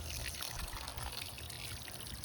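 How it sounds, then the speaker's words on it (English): Water from a bucket pours gently and steadily over seed pots of beans, a soft continuous trickling splash with no talking. "I'm going to gently water over the pots"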